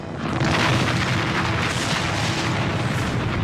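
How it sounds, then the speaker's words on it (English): A tank holding 4,000 gallons of toxic chemicals explodes at a burning factory, a loud continuous booming roar that holds steady for several seconds and sounds dense and rumbling throughout. "one tank blows."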